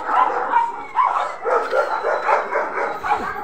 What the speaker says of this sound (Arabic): الكلب اللي هو فرانك، فرانك طبعا عمره ما نسوه،